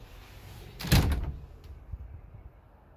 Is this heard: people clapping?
no